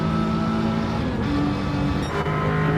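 Lexus race car in a racing video game, its engine droning steadily with sustained harmonic tones and a couple of brief pitch shifts, loud and close throughout.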